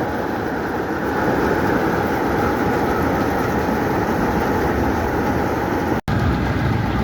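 A sugar beet harvest conveyor machine runs close by, giving a dense, continuous mechanical roar that holds steady and loud throughout.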